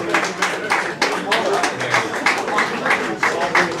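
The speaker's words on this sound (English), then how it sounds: "So please give us a quick round of applause" An audience at a pub awards presentation gives a quick round of applause, a busy patter of hands with voices and chatter mixed in.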